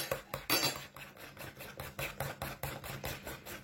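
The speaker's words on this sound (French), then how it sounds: "Et on mélange." A spoon stirs a rice mask mixture with milk powder in a bowl, giving quick repeated soft clinks and scrapes in a steady rhythm, close and quiet, with no talking.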